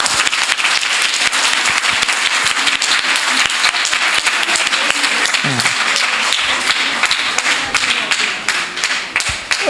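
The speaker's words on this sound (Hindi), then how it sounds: "इनके लिए एक बार इतनी जोर से ताली बजाए" Sustained, loud audience applause at a stage event, dense rapid clapping from a large crowd that continues steadily for nearly ten seconds with a faint voice briefly surfacing in the middle.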